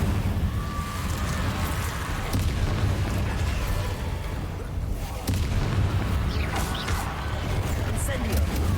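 An Incendio fire spell is cast in Hogwarts Legacy, giving a whooshing, booming burst over steady rumbling game ambience, with a second flare later in the clip.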